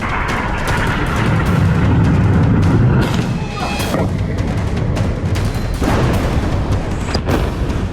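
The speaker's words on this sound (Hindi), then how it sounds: "धमाके के साथ तेज लपटें उठ रही हैं" Loud, rumbling explosion noise with crackling debris and sharp bursts over several seconds, rough and chaotic, with a faint voice mixed in; an Israeli military strike in Lebanon, with flames rising.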